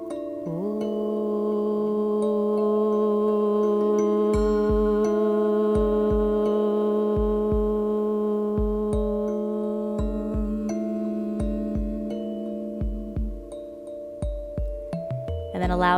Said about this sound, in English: And on our next breath, we'll take the sound of Om,